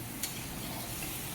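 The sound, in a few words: stirring frying potatoes after adding salt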